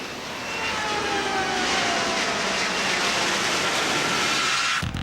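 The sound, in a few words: Joint Force Harrier jets flying at an airshow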